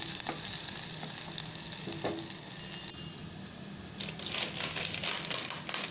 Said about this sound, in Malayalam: നമ്മുടെ ഉള്ളിയും പച്ചമുളകും ആ ഒരു പച്ചച്ചുവ മാറുന്നവരെ നന്നായിട്ട് നമ്മൾ വഴറ്റിയെടുക്കണം.